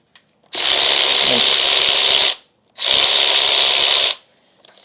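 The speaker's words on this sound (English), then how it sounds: "We break it loose with the ratchet first" A ratchet breaks loose a 14 mm exhaust manifold nut on a Honda CT90 during head gasket repair, sounding as two loud, close whirring bursts of roughly two seconds and just over one second with a short gap between.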